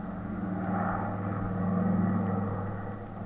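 A chartered airplane takes off as a radio drama effect, a steady droning engine rumble with a low hum that swells slightly and holds throughout, with no voices.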